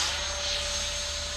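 Steady, continuous whine and roar of a 3D printed J10 RC model jet plane in flight, with a thin sustained tone over broad engine hiss, fairly loud and constant throughout with no talking.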